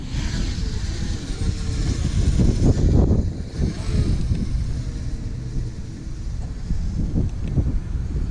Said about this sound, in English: windy day here